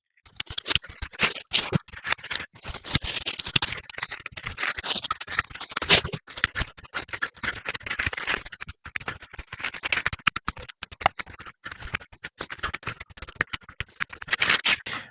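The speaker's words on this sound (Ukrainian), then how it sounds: "я їх легенько обрізаю, коригую" Hand shears snipping and trimming a Little Rascal holly shrub at a plant nursery, a long run of quick, close crisp cuts and rustling leaves, no talk.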